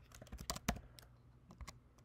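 A terminal command is typed on a computer keyboard in a quick, uneven burst of key clicks, quiet and close, with no speech.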